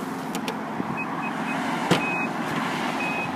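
A 2013 Infiniti JX35's power tailgate opens on its own, with a steady motor hum and a few thin electronic beeps, under a constant near background drone, with no talking.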